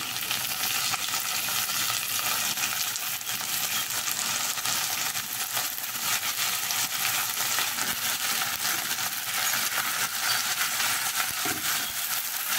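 Chicken pieces frying with golden-brown onions in a pan for Awadhi biryani make a loud, dense, unbroken sizzle with faint stirring scrapes throughout.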